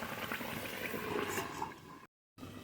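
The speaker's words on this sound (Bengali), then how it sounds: "ভেজে রাখা রূপচাঁদ মাছ দিয়ে দেব এবার একটু ঢেকে দিয়ে খুব ভালো করে জাল দিয়ে নেবো" Rupchanda pomfret fish curry simmers under a lid in a pan, giving a steady close bubbling hiss that runs without voices and cuts out briefly near the end before resuming.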